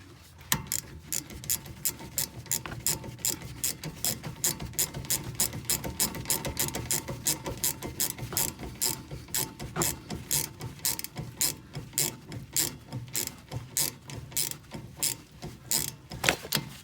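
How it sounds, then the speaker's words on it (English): Ratchet wrench clicking steadily as it loosens a rear brake caliper bolt on a 9th-generation Honda Civic Si, a fast, even run of close, sharp pawl clicks with brief pauses, no talking. "Take my ratchet and get it going."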